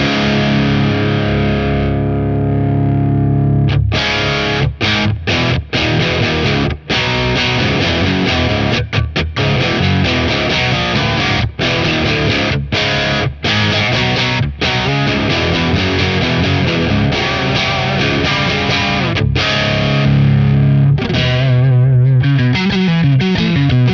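Distorted electric guitar runs through a Stone Deaf PDF-1X pedal with a wide-Q boost around the set frequency, playing loud, dense, sustained chords and riffs alone, with brief stops between phrases.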